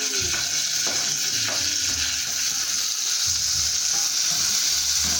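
Chopped onion and tomato sizzle and fry in a pan, with occasional stirring scrapes over a steady hiss, close up and with no talk.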